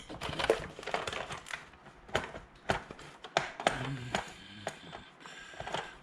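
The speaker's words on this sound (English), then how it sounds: "I happen to have a screwdriver here" A large Stanley screwdriver turns screws out of a die-cast Crown Victoria model car, giving close, irregular creaks, clicks and scraping taps of metal on metal, with faint handling noise.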